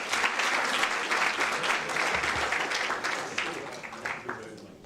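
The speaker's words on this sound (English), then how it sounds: "Another round of applause there for the prof." At a university accounting sciences symposium and book launch, a crowd gives a professor a round of applause, full and dense at first, then thinning and trailing off.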